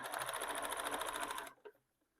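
A sewing machine runs a fast zigzag stitch along the seam of a Tula Pink pencil case, whirring close and steady for about a second and a half before stopping abruptly.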